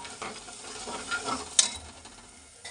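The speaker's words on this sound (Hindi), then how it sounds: "ये दही डाल दिया, फटे ना इसलिए इसमें मिक्स कर ले रही हूँ" Curd being stirred into a cooking gravy in a pan gives soft scraping and sloshing strokes over a faint sizzle, with one sharp clink of the spoon against the pan.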